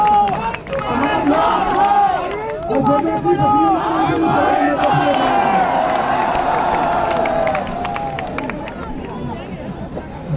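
A large crowd at an AAP victory rally in Delhi cheering and shouting loudly, with a swelling roar of many voices and some clapping mixed in, dense and close throughout before easing slightly near the end.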